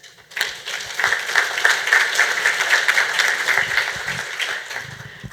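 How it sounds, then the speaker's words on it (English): A crowd at a charity fundraiser breaks into steady, sustained applause, a dense wash of clapping that holds for several seconds. "I want you to give yourselves a round of applause for that"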